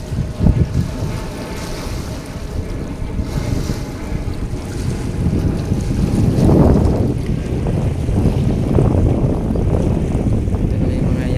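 Wind gusts over the open sea near moored yachts and dragon boats, a steady broadband roar with wind buffeting the microphone, growing louder and rougher after the first few seconds and continuing without speech.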